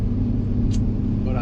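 A 2017+ Ford Super Duty diesel truck idles with a deep, steady exhaust rumble, loud and close, holding an even low drone throughout.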